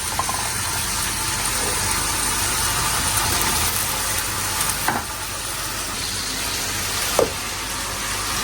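Meat frying in oil in a pan, a loud constant crackling sizzle throughout with a couple of faint clinks.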